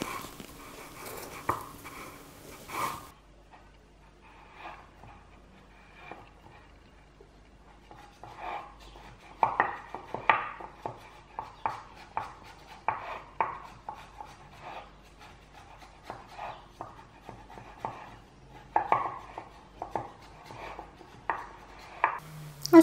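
A knife scraping and cutting around the sides of a tin to free a cooled sponge cake, a faint, irregular run of soft scratchy strokes and light knocks, close by and without speech.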